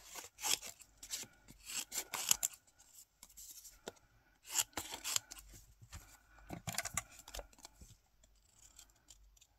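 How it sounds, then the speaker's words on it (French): Scissors snipping through paper while cutting out two small scrapbooking pieces, a close, uneven run of crisp cuts and rustling paper in bursts with short pauses between them. "On va venir découper nos deux objets"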